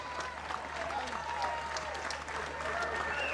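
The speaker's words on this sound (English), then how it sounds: "please, a nice round of applause for both fighters." An arena crowd at a boxing event applauds both fighters, sustained clapping and cheering with a steady low hum beneath and an announcer's voice faintly over it.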